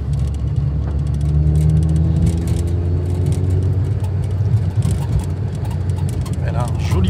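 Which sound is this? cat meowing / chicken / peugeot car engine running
peugeot car engine running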